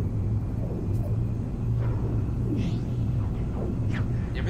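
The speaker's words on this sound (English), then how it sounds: "Suffering a storm at the moment." A low, steady rumble of a storm rolls on over a magma planet in a video game, a dense continuous drone with faint scattered higher whooshes drifting above it.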